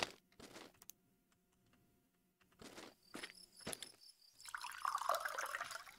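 Liquid pouring in the Mon Bazou video game: quiet drips and splashes early on, building to a steadier, louder trickle and fill toward the end, heard alone.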